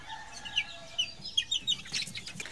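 Bulik chickens on a small farm give several short, soft clucks and chirps in quick succession, heard fairly close.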